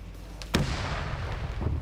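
A single booming mortar round fires in a WW2-era PvP game match, a sharp distant-sounding thump at about the half-second mark that trails into a rumbling decay over quiet background ambience.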